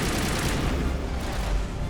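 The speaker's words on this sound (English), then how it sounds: "Oh, those are rockets." Rocket fire from an enemy turret in the Mass Effect 1 video game: a dense, continuous barrage of booming blasts and crackling gunfire, loud and close, running without a break for the whole stretch.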